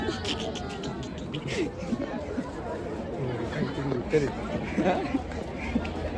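Dense crowd babble at the Goda Maha Aarti in Nashik, many overlapping voices forming a steady, loud hubbub with nearby chatter throughout.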